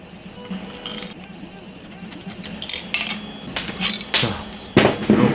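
Metal tools work at the nuts inside an electric bicycle kit controller, a 7mm spanner and a 2.5mm hex wrench clinking and scraping in several short, sharp taps that grow louder toward the end.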